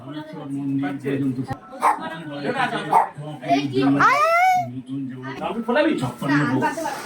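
A pet dog named Dodo gives a few short, high yips and a rising whimpering whine, heard close by amid a person's continuous coaxing talk.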